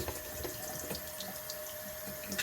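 Tap water runs steadily into a sink, splashing over a badly clogged dryer lint screen as it is rinsed, a close continuous hiss and patter with no talking.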